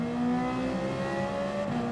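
A Ferrari 458 Italia engine roars steadily in a racing video game during a seven-lap sprint on hard tires, a loud sustained high-revving tone with no pauses.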